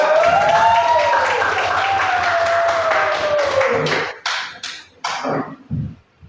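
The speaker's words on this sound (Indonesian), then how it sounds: "Oke, berikan aplaus untuk kelompok" An audience applauds a group in a classroom, with dense clapping under a sustained voice at first, then settling into scattered, tapering claps in short bursts before stopping.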